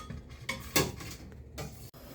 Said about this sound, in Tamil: இது எல்லாத்தையும் எடுத்து இந்த பாத்திரத்தில் மாற்றிக்கலாம்.